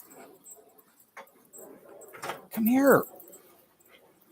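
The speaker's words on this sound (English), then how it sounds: "I got my dog barking." A dog lets out a short, rising whine close by, following scattered thuds and a person speaking briefly.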